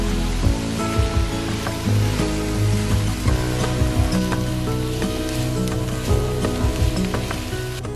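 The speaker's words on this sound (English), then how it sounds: "Add the baby spinach and keep cooking until they wilt." Baby spinach cooking in a pan for a vegan omelette filling: steady crackling sizzle with scattered pops and spatters, close and fairly loud, continuing throughout with soft scraping under it.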